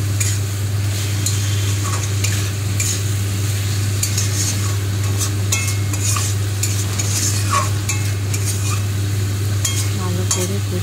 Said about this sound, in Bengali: ভালো করে এবার গরম মশলা আর কাশ্মীরি লঙ্কাতে আবার ভালো করে কষাতে শুরু করলাম।